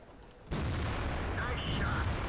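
A 15 cm tank gun fires in a tank battle game, a sudden loud boom with a sustained rumbling tail and battlefield noise continuing after it.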